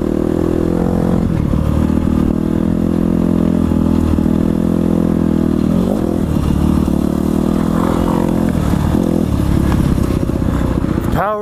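A 250 four-stroke motorcycle engine under riding, a loud, steady droning whine with shifting pitch as the throttle changes, close and continuous throughout, ending with a rising rev.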